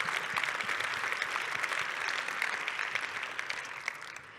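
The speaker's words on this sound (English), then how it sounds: "Round of applause for all of them." Conference attendees at a Vue talk applaud, a dense patter of clapping that stays fairly strong, then thins and fades slightly toward the end.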